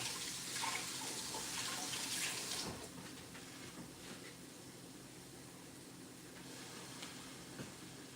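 Tap water runs steadily over fresh blackberries as they are washed in a sink. The flow is a broad, continuous hiss that is a little louder for the first few seconds, then settles at a softer level.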